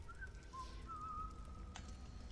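An idle character in the video game The Elder Scrolls Online whistles a short, quiet, wavering tune of a few sustained notes over faint background hum, with no talking.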